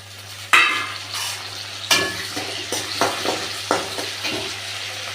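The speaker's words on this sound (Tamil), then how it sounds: "அதுக்கப்புறம் வெங்காயம் பூண்டு வெங்காயம் பூண்டு ஓரளவுக்கு வதங்கினதுக்கப்புறம் தக்காளி வந்து ஆட் பண்ணணும்" Onion, garlic and tomato sautéing in a pan for a drumstick and dried fish head curry, with bursts of sizzling and repeated scraping stirs of a utensil against the pan, close and steady throughout.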